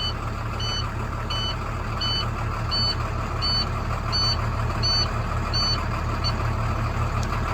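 A box truck's low air pressure warning beeps repeatedly in an even rhythm, steady and clear over the loud idle of its diesel engine as air builds up.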